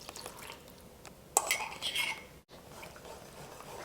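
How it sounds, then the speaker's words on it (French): Batter for Brussels waffles being mixed in a bowl after milk with yeast is added, soft clinks and scraping strokes of a utensil against the bowl, a brief louder burst midway then steady quiet stirring. "De nouveau, on mélange bien."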